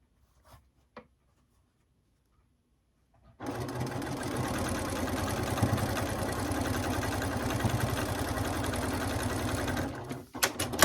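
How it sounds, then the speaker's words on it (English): A sewing machine runs steadily for about seven seconds as it stitches a quilt seam, starting abruptly after a couple of faint handling taps and stopping just before the end. "Do a few stitches to start, stop, nest that seam, and continue on."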